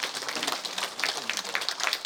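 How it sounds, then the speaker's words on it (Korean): An audience at a Buddhist temple book-launch ceremony gives a modest, scattered round of applause to welcome a guest, individual claps audible in an irregular patter with no speech. "따뜻한 박수로 환대해 주시기 바랍니다"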